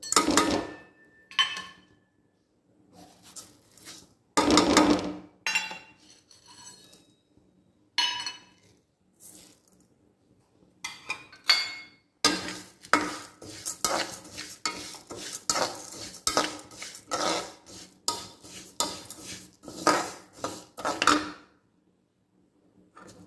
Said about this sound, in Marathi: आता बडीशेप, धणे, हे साहित्य सगळं टाकायचं आणि खरपूस भाजून घ्यायचं.